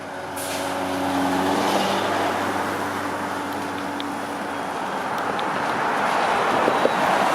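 An electric city bus rolls along a street in Toronto's North York in the early evening, a steady hum with a loud broad wash of road noise that holds for several seconds, plus a faint air-brake hiss.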